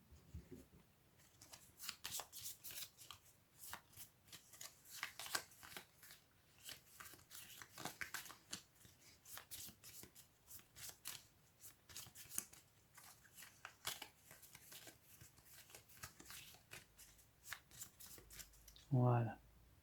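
Crisp riffling and flicking of board game cards as a draw pile and discard pile are reshuffled together, in repeated bursts over roughly twenty seconds, close and fairly quiet, with a person talking throughout.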